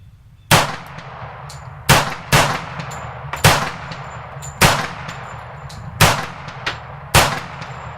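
A pistol fired outdoors, eight sharp, loud shots spaced unevenly about a second apart, each a crisp crack with a short ringing decay and a quiet background between.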